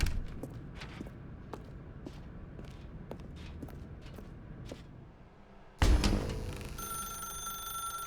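A telephone in the video game The Stanley Parable sounds with a repeated ring in a regular rhythm under footsteps, and then a sudden louder electronic burst and tone take over near the end.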